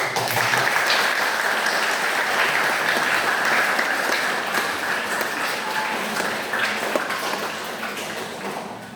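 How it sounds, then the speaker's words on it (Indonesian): A church congregation at a Mass applauds in a sustained burst of clapping that fills the room, then slowly fades toward the end. "Mari kita berikan aplaus."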